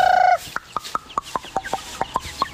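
Chickens and chicks cluck close by, a quick series of about ten short, evenly spaced clucks following a brief higher call at the start.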